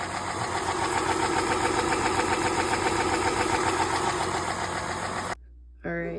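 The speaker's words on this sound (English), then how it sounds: "As you can hear, the lifters are making a lot of noise." A running Chrysler 4.0L V6 engine with worn, noisy lifters idles up close, a dense rapid ticking over a steady mechanical drone that cuts out briefly near the end.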